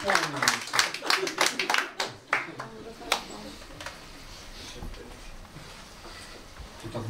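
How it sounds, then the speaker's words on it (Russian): Concert audience clapping at an electro-acoustic show: a short burst of scattered claps that thins to a few sparse ones, followed by someone speaking. "Так бывает, что вначале больше хлопают, чем в конце."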